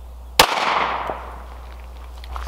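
A Glock 19X fires a single 9mm 115 grain full metal jacket round, giving one sharp, loud report followed by a short decaying echo, with no talking.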